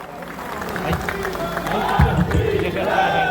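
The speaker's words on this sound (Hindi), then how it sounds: "एक बार जोरदार तालियां।" A large crowd at a public stage event in Alwar applauds loudly and steadily, a dense wash of clapping with some cheering mixed in, close and continuous throughout.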